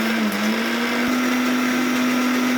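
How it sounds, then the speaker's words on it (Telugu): A kitchen mixie blender whirs steadily as it blends Bru coffee with an ice cube and sugar, a loud, continuous motor hum with a sustained pitch and no voices. "వేసుకుని అన్నీ మిక్సీ వేసేసుకుందాం"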